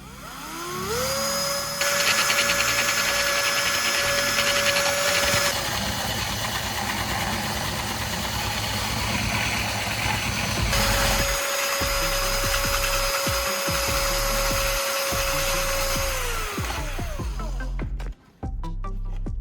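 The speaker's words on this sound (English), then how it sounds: "I'll turn on the drill and start sanding the surface roughly." A power drill fitted with a sanding roller and coarse sandpaper whirs steadily up close while sanding, its motor pitch rising and falling, with a continuous grinding hum throughout.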